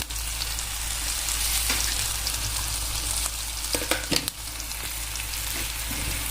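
Coriander, ginger and garlic hitting hot oil already tempered with cumin and mustard seeds, a dense continuous sizzle with a steady low hum beneath and a brief cluster of crackles midway, close and alone.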